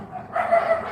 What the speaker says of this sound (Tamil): தெருவில் நாய் குலைக்குதுங்கோ.